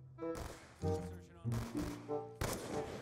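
Gunfire in the video game Black Ops 2 comes as a few loud, close shots spread through the clip, set against constant background game noise and a voice talking over it.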